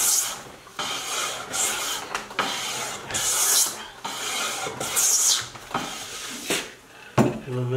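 Hand plane smoothing a wooden board to straighten it, a series of repeated rasping, shaving strokes about one per second, each a bright swish of wood being cut.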